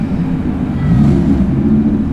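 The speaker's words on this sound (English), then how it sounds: "Comes a magic Porsche and an Audi R8 behind it." A Porsche and an Audi R8 cruising past at a street car meet, a steady low engine rumble that swells as they draw near, loud and close with no talk.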